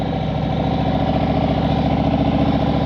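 A motorcycle engine held at a steady throttle in the friction zone during slow-speed skills practice, a loud, even, close-up thrum with a regular pulsing beat that never rises or falls.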